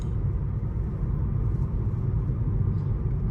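A Honda HR-V cruises along a winding mountain road, its engine and tyre rumble a steady, low, continuous drone from inside the cabin with no talking.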